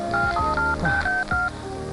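A telephone keypad sends a quick run of dialing tones, several short beeps in succession, loud and close, with no voices.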